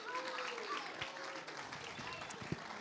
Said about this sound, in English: let's give another round of applause to our kids for participating this week.